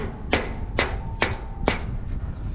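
Four evenly spaced metal hammer strikes drive a pin through a combine part, each a sharp ringing clank about half a second apart over low background rumble.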